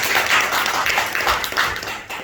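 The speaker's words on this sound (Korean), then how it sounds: "박수." A church congregation clapping together at a Sunday worship service, a steady wash of many hands sustained for a couple of seconds at moderate loudness with no one talking.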